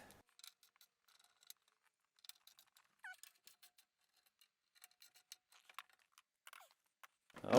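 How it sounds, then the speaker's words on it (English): Ratchet torquing the mounting bolts of a Scopema swivel seat adapter on the passenger side of a Ford Transit van, heard as quiet, sparse clicks and short ratcheting bursts with a louder knock at the end. "Now I just want to torque them properly with the ratchet."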